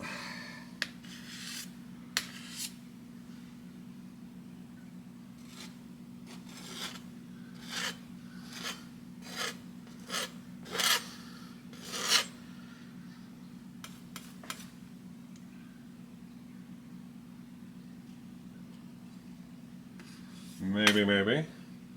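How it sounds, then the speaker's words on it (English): A painting knife scraping oil paint on a 24x36 canvas while painting a mountain summit, heard as a series of short, quiet rasping strokes at irregular intervals over a low steady hum, with a louder scrape near the end. "Keep scraping some of this up, pulling it back out."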